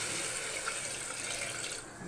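Water pouring steadily into a cooking pot while preparing prawn biryani, a continuous close hiss of liquid filling the pot for about two seconds, with no voices over it.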